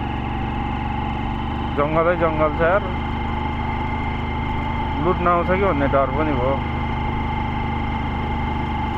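A motorbike engine idles steadily close by on a quiet jungle road near Godavari, a low continuous drone while someone talks twice over it.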